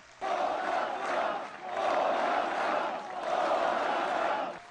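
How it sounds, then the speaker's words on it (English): A large crowd of protesters chants at the G20 summit in Hamburg, three loud rhythmic waves of massed voices rising and falling, outdoors and sustained. "protesters already assembling after a full day of demonstrations to begin the G20 summit"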